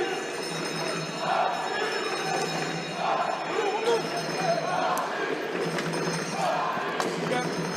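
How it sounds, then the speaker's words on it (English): Arena crowd at a ball hockey world championship quarterfinal between Greece and Switzerland, a steady roar of cheering and rhythmic encouragement rising in waves, with an announcer talking over it. "Crowd now trying to urge Switzerland on."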